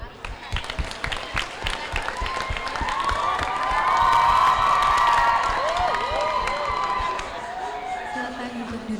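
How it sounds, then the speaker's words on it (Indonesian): Students at a school farewell and graduation ceremony clap and cheer loudly for the office management program, with dense applause and rising shouts and whoops over it. "Berikan tepuk tangan yang meriah untuk program keahlian manajemen"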